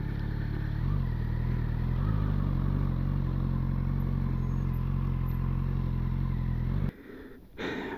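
A motorbike engine idles steadily and loudly up close as the rider reverses at a free campsite in Monarto, then cuts out abruptly near the end.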